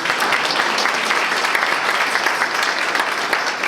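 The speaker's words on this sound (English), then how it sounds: "You don't have to clap, that's fine." An audience at a State of the City event in DeSoto, Texas, applauds steadily for several seconds, a dense and even stretch of clapping from many hands with no talk over it.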